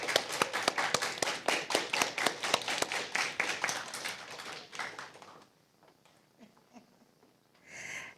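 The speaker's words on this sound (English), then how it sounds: "Another round of applause." A small audience claps at a school debate competition, a distinct rhythmic patter of hands that thins out and stops after about five seconds, leaving quiet room noise with a brief sound at the end.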